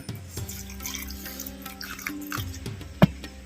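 Fresh water trickles and splashes softly into a mixer grinder jar holding coconut masala for a dry mutton kulambu. One sharp clink sounds near the end.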